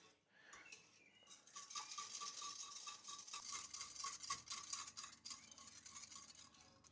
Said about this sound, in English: we now add in and whisk in our yolks